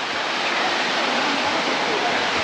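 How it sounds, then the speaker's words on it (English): A natural waterfall pours down a rock face high in the Atlas Mountains, giving a loud, steady, broadband rush of falling water that fills the whole moment without a pause. "The natural waterfall here, coming through the rock face of the Atlas Mountains."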